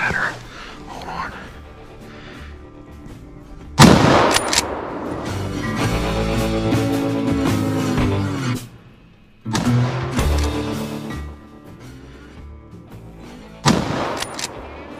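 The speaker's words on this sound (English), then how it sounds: "my first shot was a terrible shot, so I had to go up and finish it" During a deer hunt, a loud, sharp gunshot bursts out, and a second report follows about ten seconds later, both amid ongoing sound and people talking.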